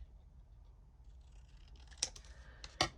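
Scissors trim a small piece of paper during card crafting, giving two crisp, quiet snips close by after a near-silent pause.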